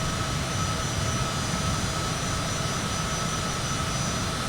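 Citation CJ4 jet engines powering up during landing practice around the San Francisco Bay, a steady, loud broadband roar with a constant whine, heard from inside the cockpit without breaks.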